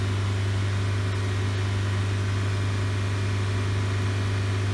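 A Nissan Sentra with an idle stalling fault runs steadily at about 3,000 RPM, a constant loud droning hum with a strong low tone and no change throughout.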